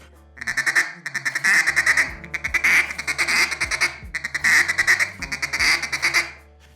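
Close, loud duck call playing a stutter feed with drags: quick runs of raspy quacking notes in several rhythmic bursts, with no voices.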